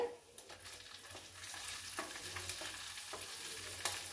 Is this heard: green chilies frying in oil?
yes